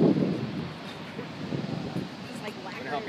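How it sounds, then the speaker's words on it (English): Wind gusts outdoors rumble across the low end at close range, strongest in the opening moment and then steady, with voices talking over it. "it's a little windy out here"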